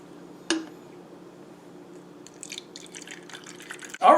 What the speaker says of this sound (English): now we're going to just pour it in our spray bottle